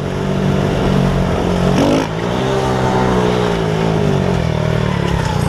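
Moped engine revving hard while climbing a hill on a wheelie, a loud continuous buzzing drone that dips briefly as the throttle changes, then rises and holds strong.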